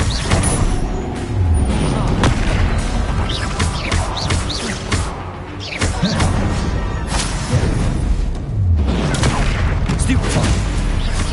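Explosive Confringo spell blasts from Hogwarts Legacy on PS5 go off in quick succession, heavy booms and crackling bursts over a dense, loud battle din with voices calling out spells.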